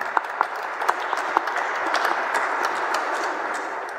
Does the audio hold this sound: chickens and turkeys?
no